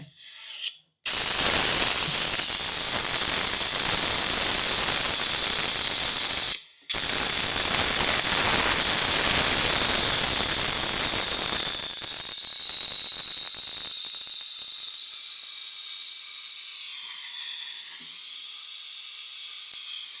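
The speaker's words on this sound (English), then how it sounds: "This brake bleeder vacuum." Loud, continuous high-pitched hiss from a brake bleeder vacuum drawing fluid from a 1964 Ford Galaxie's brakes, broken by a brief pause, then gradually thinning and softening toward the end.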